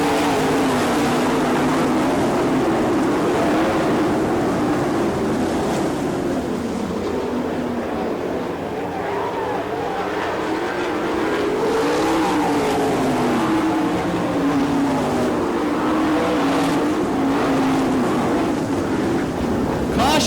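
Race cars roaring around Lawrenceburg Speedway during the 1999 Hoosier Fall Classic, a steady, dense engine drone with rising and falling pitch as the cars circle, heard from a distance and never fading.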